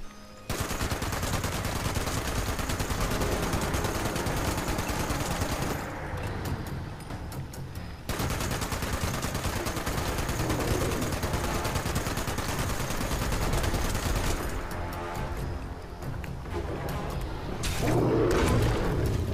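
Heavy automatic gunfire in a video game, long sustained loud bursts of rapid shots pounding almost without pause, broken by a couple of short lulls before resuming.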